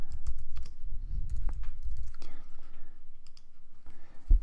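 Someone types on a keyboard in quick irregular bursts of close, crisp key clicks, with soft low thumps underneath and quieter pauses between flurries.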